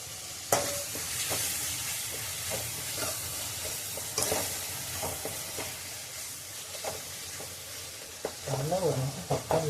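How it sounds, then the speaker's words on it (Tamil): Tomatoes sautéing in a pan in a Tamil home kitchen give a steady frying sizzle, with repeated stirring scrapes and clacks through the clip and a louder burst of sizzling near the end. "நல்லா ஒரு நிமிஷம் தக்காளி வணங்க விடணும்."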